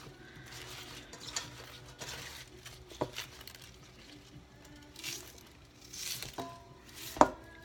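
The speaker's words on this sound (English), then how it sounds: "we also now need to cut up our ginger" A knife cuts through two pieces of ginger on a board, giving scattered soft chops and a few sharper knocks in a quiet kitchen.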